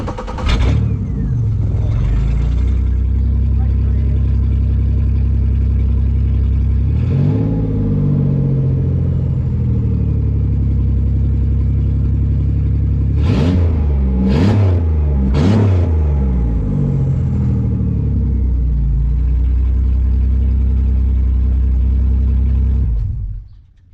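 An autocross derby car's engine idles with a loud, close, deep rumble, broken by several sharp revs, a cluster of quick blips midway, before shutting off at the end.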